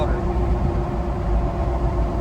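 Ford Bronco Raptor fitted with a CPE downpipe idles with a steady, low, rumbling exhaust drone, continuous and moderately loud, without revs or breaks.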